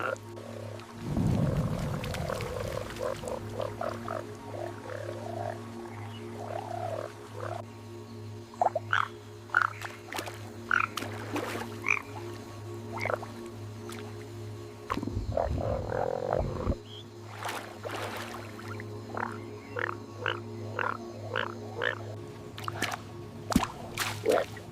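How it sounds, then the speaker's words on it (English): Male frogs call in a loud chorus over water, throaty croaks and clicking notes repeating at an irregular pace over a steady droning hum, with a couple of louder, booming bursts close by. "Male frogs inflate their throat sacs, amplifying their calls for miles."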